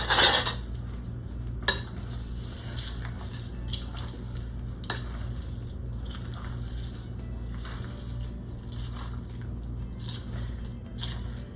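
A small spoon works through Southwest chicken casserole ingredients in a dish, a sharp clink at the start and then repeated soft taps and scrapes against the bowl in an irregular rhythm, close up and with no talking.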